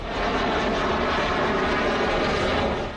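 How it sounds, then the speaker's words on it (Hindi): Rafale fighter jets flying over Indian airspace, a steady, dense roar of jet engine noise filling the air throughout without any voices. "5 राफेल की आवाज दुश्मन को कंपाने वाली है"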